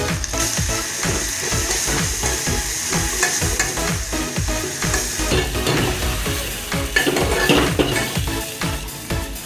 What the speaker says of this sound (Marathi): हे वाटण चांगलं परतून घ्यायचं आहे।